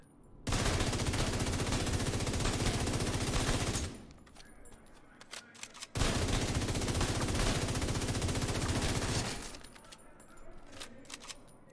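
Sustained automatic gunfire in the video game The Division's Dark Zone, two long loud continuous bursts of several seconds each, separated by a quieter gap with scattered clicks.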